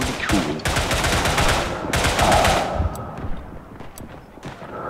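Machine gun fire in the World War I shooter Tannenberg, a loud sustained burst of rapid shots for nearly three seconds, then scattered distant cracks trailing off.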